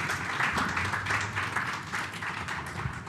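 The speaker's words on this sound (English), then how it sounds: "Thank you for the applause." An audience at an economic conference launch event applauds, dense steady clapping from many hands for a few seconds in a large room.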